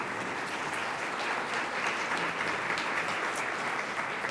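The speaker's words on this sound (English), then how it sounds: "Let's give them a round of applause." Steady, even applause from a forum audience at a Columbus Metropolitan Club event in Central Ohio, a dense wash of many hands clapping at moderate distance with no voices over it.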